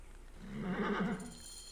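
Horse in Assassin's Creed Origins lets out a single short, wavering neigh, close and clear and rising briefly before fading.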